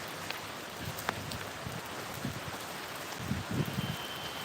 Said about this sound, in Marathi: लई मोठा अवकाळी पाऊस आलाय